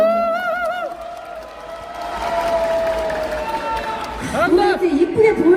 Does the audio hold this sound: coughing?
no